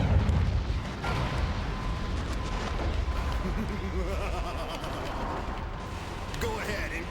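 Missiles launch and explode in heavy, overlapping booms and rumbles in the video game Metal Wolf Chaos, a loud continuous barrage with a voice talking over it.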